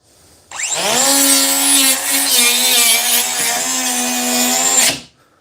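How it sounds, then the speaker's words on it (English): A DeWalt 20V DCS438 cut-off tool bites into material in one sustained cut, a loud, close, high-pitched whine with the spinning wheel's tone dipping slightly under load before it spins down at the end. "this is the first cut for the Dewalt"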